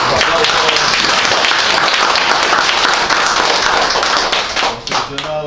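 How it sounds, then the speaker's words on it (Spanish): A crowd applauds a newly appointed municipal director in Yapacaní, loud and close with dense hand clapping that fades out near the end as a voice starts speaking. "Un aplauso."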